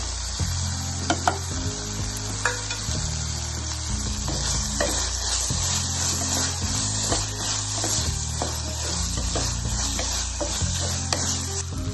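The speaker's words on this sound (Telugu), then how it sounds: "ఇప్పుడు 1/2 కప్పు స్వీట్ కార్న్ వేసి వేయించుకోవాలి." Half a cup of sweet corn fries in a pan for a pulao, a continuous close sizzle with frequent scraping and stirring strokes of a spoon against the pan throughout.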